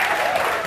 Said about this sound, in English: A warm welcome and a big applause for Adam.